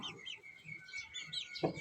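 Local egg-laying hens at a small backyard farm cluck and chirp in short, soft, repeated calls, with a brief louder burst near the end over a quiet outdoor background.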